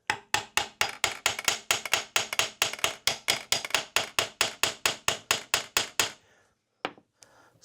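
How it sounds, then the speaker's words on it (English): Sharp hammer taps strike the case halves of a 2004 Suzuki RM-Z250 engine to free a dowel pin, about two dozen quick, even blows in a steady rhythm, close and loud, then a few scattered knocks after a pause. "we're just going to give it some taps so that that dowel pin will start releasing"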